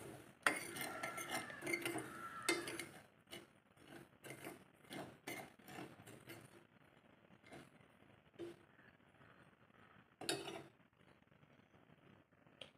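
A metal spoon scrapes and clinks against a pan while pre-roasted semolina (rava) is lightly roasted for kesari, giving a run of irregular close clatters and stirring scrapes, busy at first and then sparser, with no talk.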